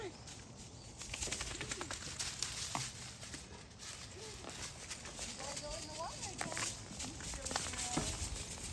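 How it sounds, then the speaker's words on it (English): Bird calls in an outdoor setting, with short chirps and whistles scattered through the clip over steady background noise and faint rustling. "Birdie!"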